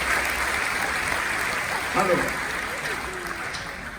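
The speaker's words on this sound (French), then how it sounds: "Je vous demande d'applaudir les jeunes et Martine Vassal." An audience at the mayor's 2024 New Year greetings ceremony in Saint-Victoret applauds young people and Martine Vassal, a steady wash of clapping throughout, with a voice speaking briefly over it midway.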